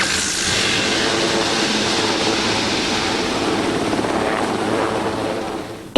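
A rescue helicopter's rotors and engine roar steadily and loudly from close by, with no talk over the sound.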